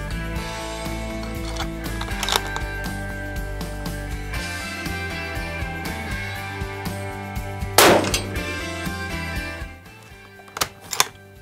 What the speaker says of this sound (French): Donc là c'était un tir canon froid